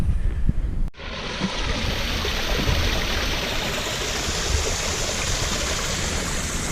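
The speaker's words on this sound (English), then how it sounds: "I have a waterfall next to a tree there that eventually goes and feeds into Cowboy Falls." Stream and small waterfall in the Wichita Mountains feeding Cowboy Falls, a steady broadband rush of flowing water, close and constant after a brief cut near the start.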